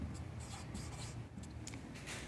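Pen or chalk writing out a maths proof about irrational numbers, heard as steady scratching strokes over a low background hum, close and fairly quiet with brief pauses between strokes.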